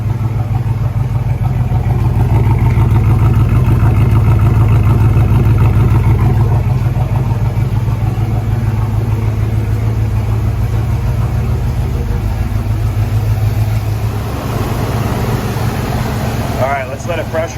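A 1973 Plymouth Satellite V8 idles steadily at close range, its deep exhaust rumble continuous and loud throughout, with a brief rise near the end.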